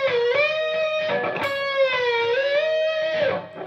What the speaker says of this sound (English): go down with the whammy bar, go to the next note without releasing the bar, and then you release it.